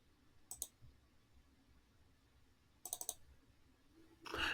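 Three quiet computer mouse double-clicks, each a sharp paired tick, spaced apart over a faint background hiss, with a louder click burst at the end.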